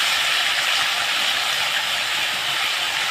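Taro leaves hit hot mustard oil in a pan (kadai), raising a loud, dense, steady hiss of sizzling that fills the whole moment with no talking.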